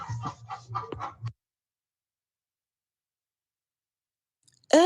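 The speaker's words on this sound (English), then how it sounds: "I can just see chickens in the background" Chickens cluck in a short run of close, rhythmic calls, followed by a long silence and a brief loud sound at the very end.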